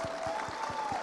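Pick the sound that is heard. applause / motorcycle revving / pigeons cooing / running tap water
applause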